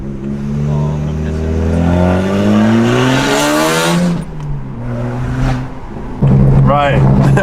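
A straight-piped BMW 135i coupe accelerates hard on a back road, its loud exhaust note climbing through rising revs, dropping briefly, then surging again close by, with a voice heard at moments over the engine.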